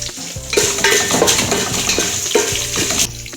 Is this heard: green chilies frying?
yes